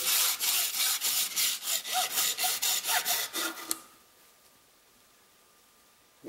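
A hacksaw cuts through a fiberglass axe handle in about a dozen quick, loud, rhythmic rasping strokes, then stops abruptly, leaving near silence.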